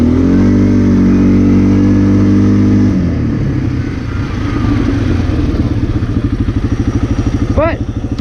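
A 2006 Arctic Cat 400 ATV engine, freshly rebuilt, runs loud and close with a steady throbbing idle that shifts in pitch and pulses as the throttle changes.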